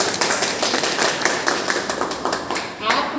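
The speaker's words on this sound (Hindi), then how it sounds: "एक बार सर के लिए जोरदार ताली।" Audience applause greeting a presenter at a network-marketing seminar: dense, steady clapping from a crowd fills the whole stretch at even loudness, with a voice faintly mixed in.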